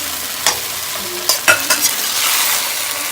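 Broccoli tossed into a hot pan with beef and noodles nearby, a steady loud sizzle broken by several sharp stirring scrapes and clatters, no voices.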